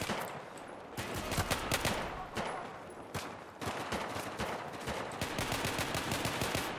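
Rapid pistol shots from the video game Battlefield 1 crack out in quick bursts and short volleys, sharp and repeated throughout, fairly quiet overall and with no voices.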